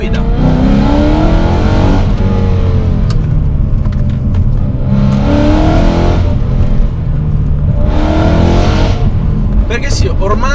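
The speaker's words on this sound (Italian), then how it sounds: "un grosso motore V8 aspirato" A BMW M3 E92's naturally aspirated V8 engine roars steadily, rising and falling as it accelerates and shifts, loud and close throughout.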